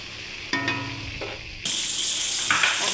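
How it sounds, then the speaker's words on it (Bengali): Pointed gourd (potol) frying in a pan, a continuous close sizzle with a brief scrape or clink early, then the hiss swelling louder and brighter for the rest. "পটলটা ভালো করে ভেজে নিয়ে আমি তারপরে পনিরটা ভাজবো"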